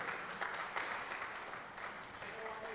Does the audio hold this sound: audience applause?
yes